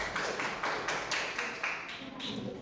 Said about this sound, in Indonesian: beri dulu tepuk tangan untuk di sini